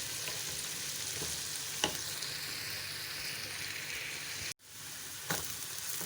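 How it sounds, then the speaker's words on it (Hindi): Onions frying uncovered in a pan until light brown, a steady close sizzle with a few soft clicks of stirring and a brief dropout partway through. "अब इसको ढकेंगे नहीं और तब तक पकाते रहेंगे जब तक प्याज का कलर जो है वो लाइट सा ब्राउन हो जाए"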